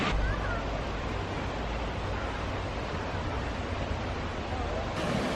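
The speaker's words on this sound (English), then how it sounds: "So the water's going to be pretty strong here" Strong river water rushes through a rocky stream in the Great Smoky Mountains, a loud, continuous broadband roar that stays steady throughout, close by and unbroken.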